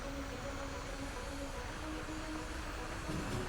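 Aircraft engine spooling up for takeoff in the Kerbal Space Program 2 video game, a steady dense roar with a faint whining tone above it, holding constant and swelling slightly at the end, with no talking.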